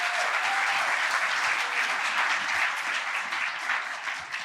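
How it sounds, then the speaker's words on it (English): An audience at a youth health center panel event in Baltimore applauds the panelists, a dense, steady wash of many hands clapping that holds loud throughout and tapers slightly at the end. "let's give our panel another round of applause for being here this morning"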